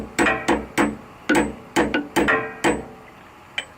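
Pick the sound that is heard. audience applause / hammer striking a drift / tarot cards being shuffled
hammer striking a drift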